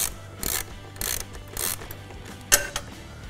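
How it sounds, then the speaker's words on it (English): A T40 Torx ratchet wrench loosens a grab rail fastener on a BMW R1300GS motorcycle tail section, giving a few close clicking ratchet sweeps followed by a sharp metallic knock. "loosen this fastener up"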